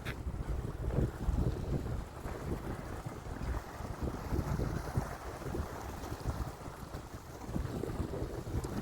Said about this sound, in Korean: 오늘 꽤 바람이 좀 있네